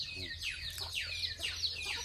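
Roosters call and cluck repeatedly in short downward-sweeping bursts, close by, over a low steady background hum.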